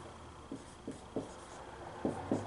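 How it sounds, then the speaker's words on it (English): A pen or pencil taps and scratches on paper while a multiplication problem is worked out, making a handful of short, light strokes spaced irregularly against a quiet room. "I'll write it over here again."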